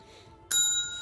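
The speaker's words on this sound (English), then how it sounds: "just ring the bell at him, Lise." A bell is struck once, ringing out bright and loud with a sustained, slowly fading tone after a quiet lead-in.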